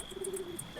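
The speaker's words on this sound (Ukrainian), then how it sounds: "Голуб." A pigeon coos softly in a video game, a short low hum drawn out over a moment, with faint high chirps from other birds and a steady electronic tone behind it.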